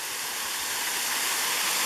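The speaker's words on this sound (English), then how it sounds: "It's a low head dam where the water spills over the top" Water spilling over a stone block low head dam at Toccoa: a loud, continuous rushing hiss of falling water, close and unbroken for the whole moment.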